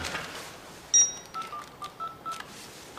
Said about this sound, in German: Ich rufe Kamp an.